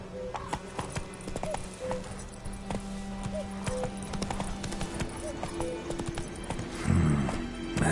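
Roach, Geralt's horse in The Witcher 3, gallops in a quick steady rhythm of hoof beats, with a brief snort or whinny near the end over soft game ambience.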